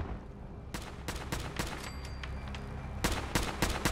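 Gunfire from defenders in the video game Fallout 4, sharp individual shots and short bursts cracking over a low rumble, spaced irregularly and fairly faint, with no voices.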